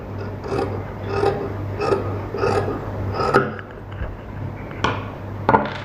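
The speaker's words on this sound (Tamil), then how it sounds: "நெக்ஸ்ட்டு கீழே வந்து பிசுறு இருக்கு இல்லையா, அதை வச்சுட்டு கட் பண்ணி எடுத்துக்கலாம்." Scissors snip through blouse sleeve fabric in a series of about eight short rasping cuts, roughly one every half second, close and clear over a low steady hum, with a brief pause before the final quicker snips.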